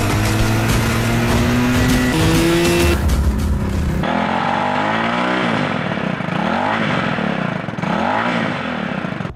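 Motorcycle revving hard on a test ride, first a loud straining engine with a pitch shift, then rushing wind and road roar with wavering engine tones, close and continuous.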